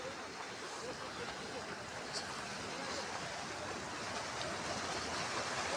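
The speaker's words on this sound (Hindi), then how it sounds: "कितना साफ पानी बह रहा है" The Shaliganga river at Doodhpathri flows in a steady, broadband rush of water, close and constant throughout with no clear voices over it.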